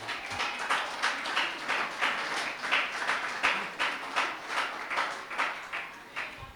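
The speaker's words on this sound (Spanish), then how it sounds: "Un aplauso al Señor, por favor." A church congregation claps in a steady, rhythmic beat of roughly two claps per second, fairly faint and even throughout, with no talking.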